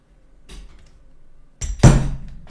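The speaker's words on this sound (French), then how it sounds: "mettre un petit coup de marteau là-dedans" A hammer taps a pin in a PPK-20 Well PRO trigger box on a workbench, giving a faint knock followed by one sharp, louder metallic strike.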